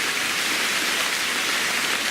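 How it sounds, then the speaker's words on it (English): Rain pours down steadily in a St. Lucia rainforest, a dense and loud continuous hiss with no voices over it. "Now here comes the rain, so I gotta protect the camera."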